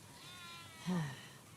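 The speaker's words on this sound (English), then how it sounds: "We definitely have way too many sheep." A single short sheep bleat in The Last of Us Part 2, rising briefly out of a quiet in-game background near the middle and fading quickly.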